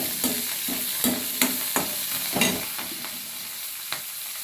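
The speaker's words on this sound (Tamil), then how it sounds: "எண்ணெய் பத்தலைன்னா நல்லா வதக்கிக்கோங்க எல்லாத்தையும் சேர்த்து" Radish chutney ingredients sauté in hot oil in a pan, with a soft steady sizzle broken by regular scraping stirs of a spoon, close and clear with no talking.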